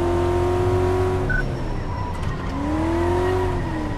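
A car engine in Car Mechanic Simulator 2014 revs steadily, its pitch dipping and then climbing again, with a brief high squeal partway through. The sound stays loud and close the whole time, and no one speaks.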